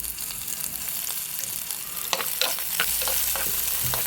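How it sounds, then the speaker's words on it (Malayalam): Garlic sautéed with onion in hot coconut oil in a pan for a curry, a close, continuous sizzle broken by scraping spatula strokes and clicks during the second half. "ഇനി നന്നായിട്ട് വെല്ലുള്ളിയാണ് ഒന്ന് വഴറ്റിയെടുക്കാം."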